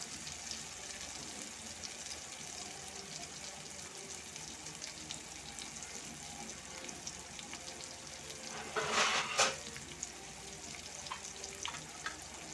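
Onion and dried fish (karuvadu) cook in a pan over a medium flame for karuvattu thokku, giving a steady, faint hiss and sizzle throughout with a brief louder scrape or stir near the end.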